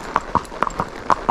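A mare's hooves clip-clop forward during groundwork training, several distinct evenly spaced hoof strikes, fairly close and clear, with no talking.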